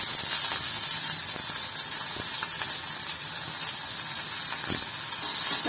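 Onions and green chillies fry in a pan with popped mustard seeds and urad dal for spinach poriyal, a loud, constant hiss with a few faint clicks and scrapes, no voices.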